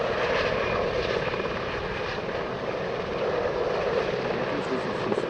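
A Westland Sea King helicopter flies at an air festival, its rotor and engine making a steady, loud broadband roar with no pauses.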